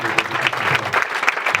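A church congregation claps for Jesus in a lively burst of applause, dense overlapping hand claps with rhythmic peaks, fairly loud and close, with faint voices mixed in.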